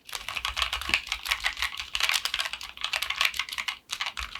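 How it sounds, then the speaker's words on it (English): Steady, fast typing on a mechanical keyboard with linear switches, soft muted keystrokes in a continuous rhythm, close up with no talking. "So it's much quiet way of typing"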